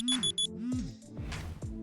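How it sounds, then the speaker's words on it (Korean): Alarm clock app ringing on a phone with repeated short electronic beeps in a quick pulsing pattern, clear and close, mixed with other brief tones and sounds. "하루의 시작은 알람 앱"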